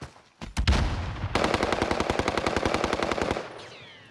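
Call of Duty: Warzone gunfire: a couple of sharp shots, then a long rapid automatic burst, loud and close, ending abruptly.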